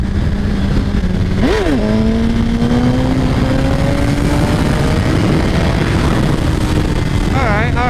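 A 2017 Suzuki GSXR1000 motorcycle accelerates hard in third gear, its engine pitch climbing steadily after a brief blip, loud and close with heavy wind rush throughout.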